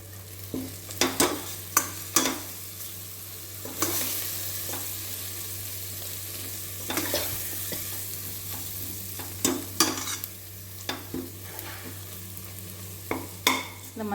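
Turmeric powder frying in oil while being stirred, with a steady low sizzle broken by sharp, irregular scraping clicks of a spoon against the pan.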